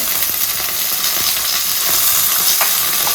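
Washed spinach, mint, fenugreek and coriander leaves fry in a pan for palak pulao, giving a steady, loud sizzle with soft stirring clicks throughout and no voices.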